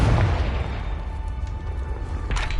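A Confringo blast in Hogwarts Legacy goes off as a deep, rumbling boom with a dense low roar lasting a couple of seconds and a brief burst near the end.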